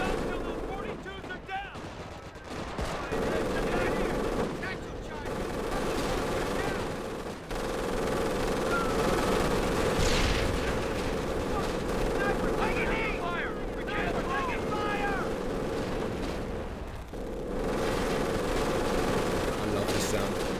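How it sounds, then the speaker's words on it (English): Heavy machine gun fire rattles through a Company of Heroes Blitzkrieg Mod battle, sustained loud bursts with brief pauses between them, layered with other gunfire and explosions. "It's such a sexy machine gun sound."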